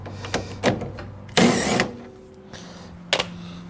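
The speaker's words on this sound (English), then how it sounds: "I'm going to blast the nut off." Pneumatic impact wrench removing a wheel nut on a Mazda RX2, with several short rattling bursts, a longer loud hammering burst near the middle and a final brief burst, close and loud in a garage.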